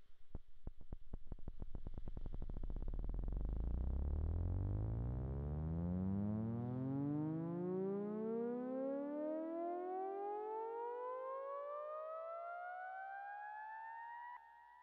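A synth riser effect built with an added octave and detuning, a dense buzzing tone that sweeps steadily upward in pitch over about fifteen seconds, heard alone and fading slightly at the end.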